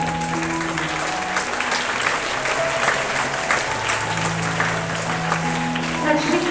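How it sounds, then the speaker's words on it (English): Audience applause fills a school assembly hall, steady dense clapping throughout with some background voices and faint tonal sounds mixed in. "Let's give a big round of applause."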